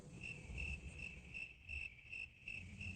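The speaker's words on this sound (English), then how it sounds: "Cricket, cricket, cricket." Crickets chirp in a steady, evenly pulsing rhythm, used as a comedic awkward-silence effect after a joke falls flat; the chirping plays alone at moderate level, without any voices.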